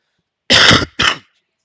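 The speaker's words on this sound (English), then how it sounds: "That cough sounded very phlegmy." A man's phlegmy cough comes in two loud, close bursts, a longer rasping one and then a shorter one, with silence around them.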